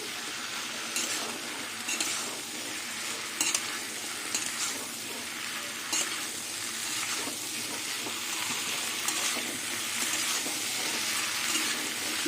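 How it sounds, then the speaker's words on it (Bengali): Taro stolons and potatoes frying with shrimp in a pan, giving a steady, dense sizzle with faint stirring scrapes, close and continuous with no talking. "কচুর লতি আলু দিয়ে সব কিছু মিশিয়ে এবার ভাজবো"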